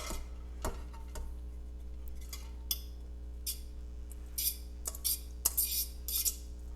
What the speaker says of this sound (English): Now we're going to add in our pasta.